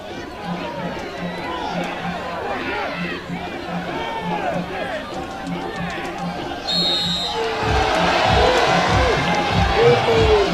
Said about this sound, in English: the home crowd frustrated along with their players